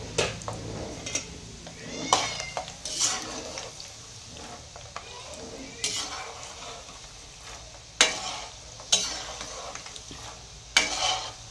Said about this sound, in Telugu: నేను పల్లీలు వేపేసుకుంటే అయిపోతుంది.